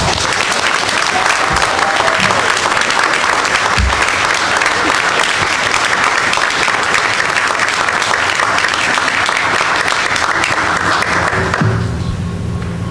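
Sustained audience applause at a school board of education meeting honoring a middle school Scrabble team, dense and steady for about twelve seconds before tapering off.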